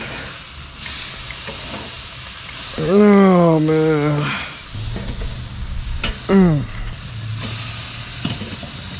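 Burgers sizzling on a hot Weber grill, a continuous loud frying hiss with crackles, while someone talks briefly and makes a few drawn-out vocal exclamations over it.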